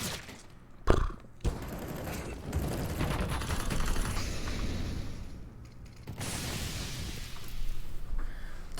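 A Counter-Strike match between Fnatic and mouz delivers a gunfire exchange: a sharp close shot near the start, then sustained rapid weapon fire and mechanical clatter rolling on at moderate loudness with no talk.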